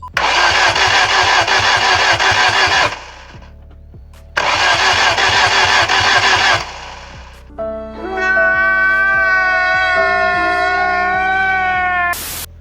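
A Ford Zetec 1.6 16V engine from an Escort is cranked by the starter in two rapid, rhythmic bursts separated by pauses. It then catches and runs with a steady, loud tonal hum.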